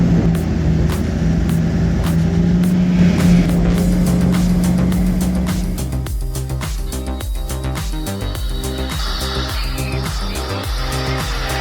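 A D8K crawler tractor pulling a 280 horsepower truck loaded with 33,000 pounds of lumber up a muddy, slippery hill, its heavy diesel engine droning loudly and steadily, then shifting to a rougher, knocking labor partway through, with no talk.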